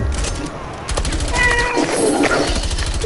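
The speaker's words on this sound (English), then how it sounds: "Yep, that is a cat." A cat meows a few times in Call of Duty Cold War Zombies, short wavering cries set among rapid gunfire, with players talking nearby.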